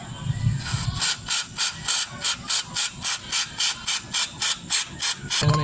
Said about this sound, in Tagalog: Ito yung pang spray ko, power spray.